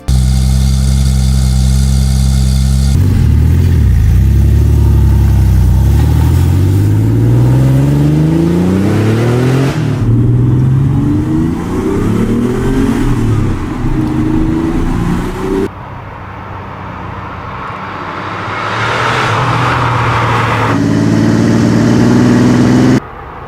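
A Porsche 911 Turbo engine in a Need for Speed game idles, then revs and climbs steadily through rising gears, drops briefly, and builds again, loud and close with no voices.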